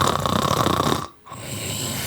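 A recorded person snoring: a loud, rough, close rasping breath that cuts off briefly, then resumes as a steadier drone.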